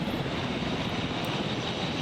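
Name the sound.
helicopter in video game Jurassic World Evolution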